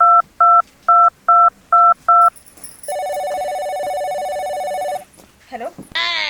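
A phone number dialed on a mobile: six evenly spaced keypad tones, then a long steady ringing tone, ending in brief rustling and a short voice.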